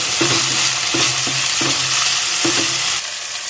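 Coriander and ginger-garlic paste frying in hot oil for a Marathi ghevda vegetable dish, a loud steady sizzle broken by repeated scraping stirs of a spoon against the pan, with no talking.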